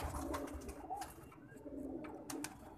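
Pigeons being kept for sale coo softly at close range, several low calls coming in a loose rhythm over faint background rustling, with no voices.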